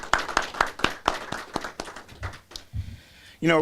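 People at a mayor's press conference give a few scattered claps that quickly thin out and fade, sparse and fairly faint, before a voice starts speaking at the end.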